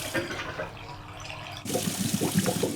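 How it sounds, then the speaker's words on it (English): A cartoon washing machine churns through its first wash cycle, giving a steady watery sloshing and swishing that turns louder and more turbulent about halfway through. No one speaks. "That's the first wash cycle."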